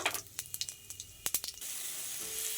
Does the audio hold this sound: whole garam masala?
yes